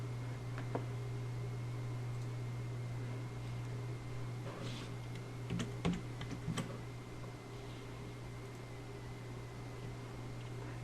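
A short run of keystrokes on a computer keyboard, typing an album name: a handful of quick, faint clicks clustered mid-way over a steady, quiet fan hum.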